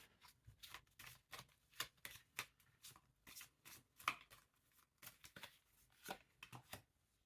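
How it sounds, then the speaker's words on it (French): Cards from an oracle deck being shuffled and drawn, a quiet run of crisp papery flicks and slides in irregular bursts, close by. "on va tirer deux petites cartes, deux cartes vertes"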